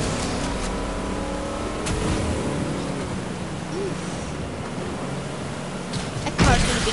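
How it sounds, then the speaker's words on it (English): Car engine in the Fortnite video game, a steady motor drone that swells gradually as the vehicle draws nearer, ending in a louder burst of noise. "That car's going to be coming after us."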